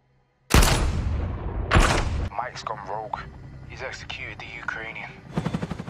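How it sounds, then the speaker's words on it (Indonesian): Two loud gunshot blasts from an action film scene open the clip, followed by excited voices and a further burst of rapid shots at the end. "Mike langsung menembak Sergei dan anak buahnya."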